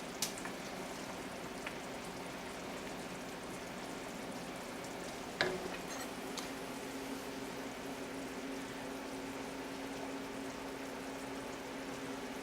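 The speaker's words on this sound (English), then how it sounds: "Now we are going to stir this until it comes back to a rolling boil." Chicken noodle soup bubbles at a steady rolling boil while a spoon stirs through it, with a few light clinks against the pot and no voices.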